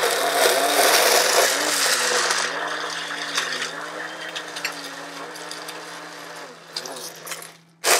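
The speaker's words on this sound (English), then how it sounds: "A scoop. Put it on the blender." A blender crushes ice for a tiki cocktail with pineapple juice, a loud steady whirring grind with rattling ice that thins out and ends abruptly after about eight seconds, no voice over it.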